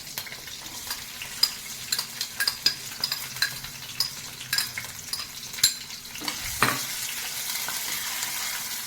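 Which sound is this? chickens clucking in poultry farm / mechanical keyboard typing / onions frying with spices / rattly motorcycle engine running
onions frying with spices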